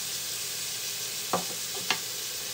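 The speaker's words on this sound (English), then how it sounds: "I'm just going to start to stir that around" Celery and onion sauté in a pan with a constant soft sizzle. Two brief utensil scrapes or taps stand out as the vegetables are stirred, and nobody talks.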